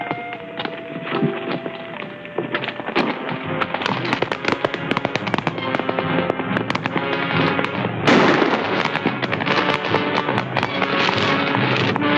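Rapid gunfire from a Western film shootout, dense loud cracks with galloping hooves mixed in, filling the scene with no break.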